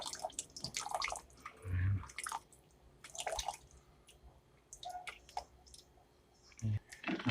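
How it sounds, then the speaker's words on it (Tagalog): Annatto water is strained over a cooking pot, with scattered drips and small clicks, fairly close and quiet, in brief irregular bursts. "Salain natin ngayon yung atsuete."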